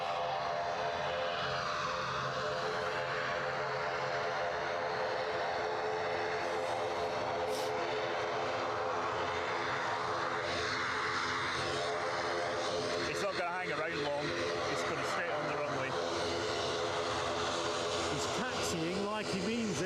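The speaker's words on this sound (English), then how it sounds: "So Logan Air off to Kirkwall, ATR 72-600." A Loganair ATR 72-600 turboprop taking off for Kirkwall from Edinburgh Airport, its propeller engines droning and humming steadily at a distance, with people talking over it.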